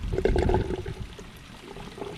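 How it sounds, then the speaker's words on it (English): Water gurgles and rushes out through a siphon draining a flooded vegetable garden bed, a close, loud burbling flow that eases into a steadier trickle. "Once they catch that siphon, it does not take them that long to drain out."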